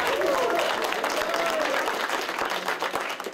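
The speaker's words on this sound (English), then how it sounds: "give yourself a round of applause." Football players clap and cheer together in a locker room after a New York Giants win over the Eagles, a dense burst of close applause with some voices and whoops mixed in.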